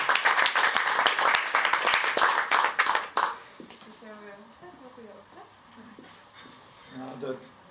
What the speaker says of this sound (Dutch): Mag ik een heel hard applaus voor Kees?